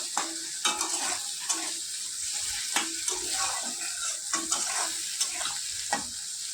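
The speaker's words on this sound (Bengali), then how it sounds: "পেঁয়াজগুলো একটু ভাজা ভাজা হবে।" Chopped onions fry in a pan with a steady close sizzle, broken by repeated scraping stirs at an irregular, brisk rhythm.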